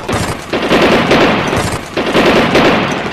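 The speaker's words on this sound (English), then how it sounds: "Rapid gunfire." Loud, rapid bursts of automatic gunfire roar close by, rattling in dense repeated volleys with brief gaps between them.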